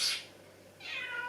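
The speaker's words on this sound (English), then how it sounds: "That's my cat." A pet cat indoors gives two short meows, the first quick and the second longer and drawn out, near and fairly quiet, with no talking over them.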